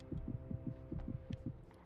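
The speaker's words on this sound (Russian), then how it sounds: "Сердце бьется." Heartbeat in the Alan Wake video game: faint, low double thumps repeating in a quick steady rhythm over a soft hum.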